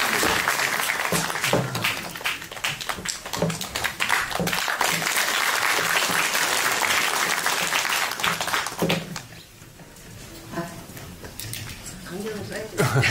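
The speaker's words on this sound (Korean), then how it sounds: "여러분 박수로 환영해 주세요." Audience applause at a book concert welcoming the next speaker, dense sustained clapping from a crowd that thins and fades toward the end, with some voices mixed in.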